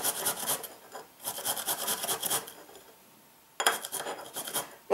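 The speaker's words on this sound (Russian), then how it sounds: "И мы его натираем на терочке." Half a washed cucumber rubbed on a fine kitchen grater for a homemade face mask: close, rasping strokes in two long bursts, a quiet pause, then a third burst.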